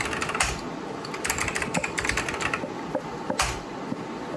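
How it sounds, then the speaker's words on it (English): Rapid clattering keystrokes on a computer keyboard while a root password is entered during a Linux install, steady and close with occasional harder key presses, no voices. "I was out of shot while typing"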